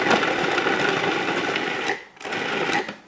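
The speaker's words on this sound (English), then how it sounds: "I'm going to just keep pulsing it until I get it as to what the consistency I would call coarse ground beef" A food processor pulses steak into coarse ground beef for tartare, giving a loud, close motor whir in two bursts separated by a short pause.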